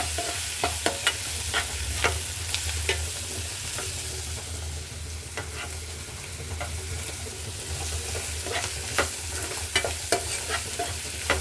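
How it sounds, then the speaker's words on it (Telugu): Onions fry with turmeric in a pan while being stirred for a drumstick curry. A loud, constant sizzle carries regular clicks and scrapes of the spoon against the pan, with no voices. "ఇక్కడ పసుపు వేసి ఫ్రై చేసుకోవాలి"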